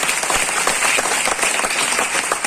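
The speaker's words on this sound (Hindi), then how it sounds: "जो हम लोग के सीनियर सर थे साधुरा, एक बार उनके लिए भी ताली होना चाहिए दोस्तों।" An audience at a motivational training session claps steadily throughout, a dense, loud wash of applause with no speech over it.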